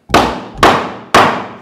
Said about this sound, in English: I'll just hit this little nail with a little countersink it in